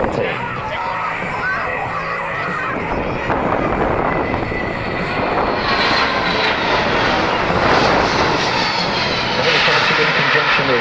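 A Boeing C-17 transport aircraft passes at the Avalon Australian International Airshow, a loud, steady jet roar that swells as it moves across, with crowd or commentary voices faintly underneath.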